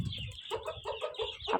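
Several chickens cluck close by in a fast, uneven chatter as hens are let out of their enclosure at a family pet house, with no talking.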